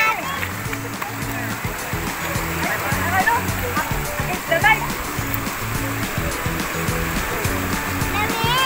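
Mountain river water flowing down from the hills at Salabusob River, a steady broad rushing wash that stays loud and constant throughout, with a faint voice now and then underneath.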